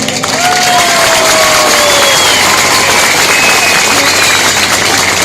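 A large crowd at a political rally of the AK Party in Çumra claps and cheers loudly and continuously, with a steady wash of noise, a low engine-like hum underneath and a faint whistle-like tone drifting through.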